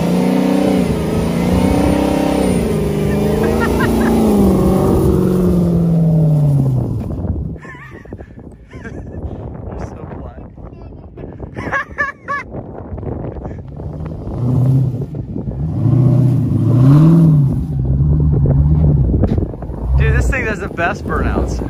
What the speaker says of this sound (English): You gotta do a rolling burnout